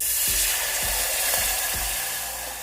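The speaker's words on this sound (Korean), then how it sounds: "국물용 멸치를 먼저 이렇게 뜨거운 불에 살짝 볶아주세요" Dried soup anchovies stir-frying in a hot pan, a steady broadband sizzle with a few soft scraping stirs thumping at regular intervals, close and continuous throughout.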